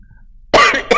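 Two sharp coughs from one person, close and loud, the first burst stronger and the second shorter, after a brief near-silence.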